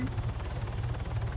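Helicopter in the Arma 3 Altis Life game, a steady low rotor thrum with engine whine holding at an even level for the whole short stretch.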